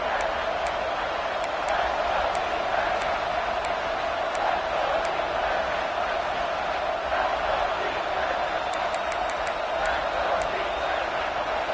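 A packed stadium crowd in the NCAA 26 college football game roars in a steady, loud wash of noise throughout, with a commentator talking over it.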